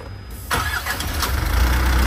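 The engine of an Isuzu Elf Giga Euro 4 truck fitted with a DT4000i air-conditioning unit cranks briefly and catches, then settles into a loud, close, steady diesel idle.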